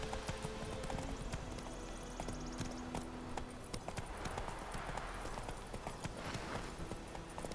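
In The Witcher 3, a horse gallops with a quick, steady clip-clop of hooves that runs throughout, over game ambience and faint background voices.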